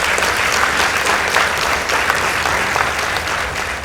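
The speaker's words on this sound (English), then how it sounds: "Let's give them a round of applause." Audience applause rings out at a high school debate for Sawagongo High School. The clapping is loud, dense and sustained for several seconds, with crowd noise and no voices on top.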